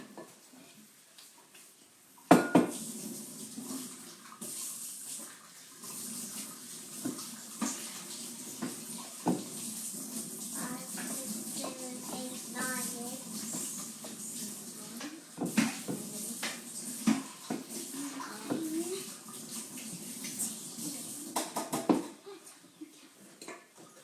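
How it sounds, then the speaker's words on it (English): A small tub being washed in a sink during a baking session, with water running and splashing intermittently, faint knocks of plastic against the basin, and a voice speaking over it at times. "Go and give it a good wash and dry for me"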